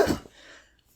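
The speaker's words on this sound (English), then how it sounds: "Cough, cough, cough, cough." A single short cough sounds close up, followed by a faint fading breath and near silence.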